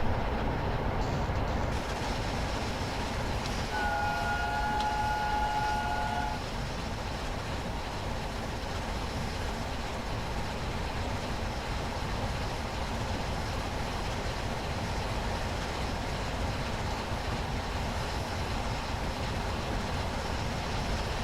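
Flying Scotsman A3 steam locomotive running in a train simulator game, a continuous loud rumbling roll with a short whistle-like tone early on, steady and unbroken with no speech.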